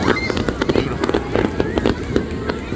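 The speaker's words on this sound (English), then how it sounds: "And here you go, fireworks." Fireworks burst repeatedly at the night Nebuta Festival in Aomori, Japan, a quick irregular series of pops and crackles heard from some distance, with a crowd murmuring underneath.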